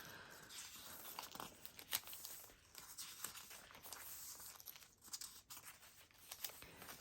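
Tracing paper rustles and crinkles as pages of a junk journal are handled, soft irregular papery crackles up close and quiet, without talking.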